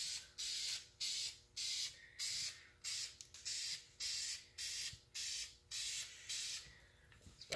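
Spray paint is applied in short hissing bursts to a car's oil pan and drain plug, about a dozen evenly spaced sprays with brief pauses between them, close and clear, with no talking.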